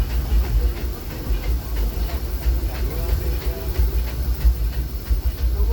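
A Disneyland Railroad steam train rolls along its tracks, making a continuous loud rumble with a rhythmic clickety-clack of wheels over rail joints and a steady hiss heard close up.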